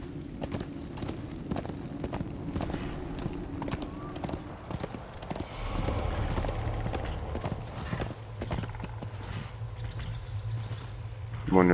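Galloping horse hooves in the video game Darksiders 2, a steady run of clip-clop thuds with occasional snorting, set in game music and effects with no one speaking.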